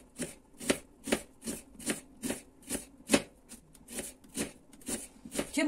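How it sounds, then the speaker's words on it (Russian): Knife slicing an onion into thin half-rings on a cutting board, a steady series of about fourteen crisp, close chopping strokes in a quick even rhythm, heard alone. "Теперь нужно полукольцами, тоже тоненькими, порезать лучок."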